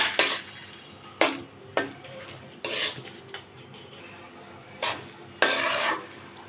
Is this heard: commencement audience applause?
no